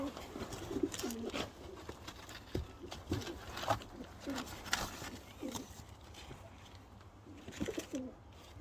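Racing pigeons coo softly and repeatedly in low, throaty rolls, with light rustling and scattered taps in the background.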